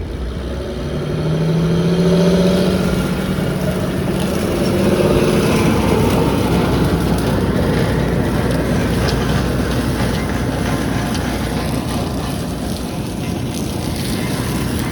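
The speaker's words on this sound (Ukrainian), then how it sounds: "Цей звук Джандіра просто не передать словами. Як даєш на газ, такий звук просто неймовірний." A John Deere tractor engine roars loudly and steadily nearby while mulching in freezing cold weather, a dense sustained rumble with a brief rise in pitch early on, no voices.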